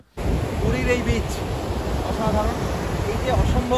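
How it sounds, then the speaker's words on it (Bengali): Ocean waves at Puri beach, a continuous loud wash of surf with gusting wind buffeting the microphone, and faint voices in the background. "ভালো ঢেউ"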